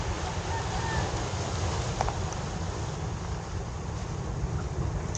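Strong sea waves surge around a wet fishing platform, a steady, loud roar of surf and rushing water with heavy low rumble and wind buffeting the microphone throughout.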